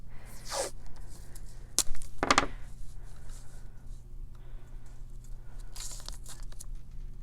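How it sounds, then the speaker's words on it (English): A piece of tape torn off for holding hillside scenery pieces in place during a paper-crafting session, with a sharp rip standing out amid quieter crinkles and scrapes, close by with no speech. "I'm just going to put a piece of tape down so they don't move"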